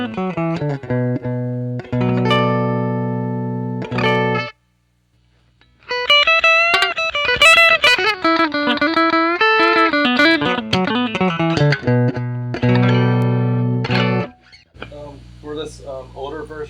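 A 2006-version Ibanez SA260FM electric guitar on its bridge pickup, tone knobs fully up, plays bright, clean chords and single-note runs, loud and close, with a short silent gap midway.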